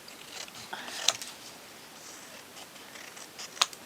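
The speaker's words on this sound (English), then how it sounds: "Cut around the outside" Scissors cut around the outline of a small paper piece for a miniature model, giving quiet papery snipping with two sharp, distinct blade snaps. The sound is close and soft, with no voices.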